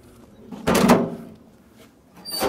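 A cast-iron door on a wood-fired boiler swings shut with a single loud thump and rattle, followed by a quieter clunk a second later, with no voices.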